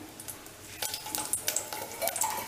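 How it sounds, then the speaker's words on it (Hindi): Chopped chillies sizzling in a tablespoon of hot oil in a pan, a steady crackling fry with scattered clinks and stirring scrapes close by. "थोड़ा सा हम ऑयल डालेंगे, 1 टेबल स्पून मीडियम साइज की, और हम 3 चॉप्ड मिर्चें डाल देंगे"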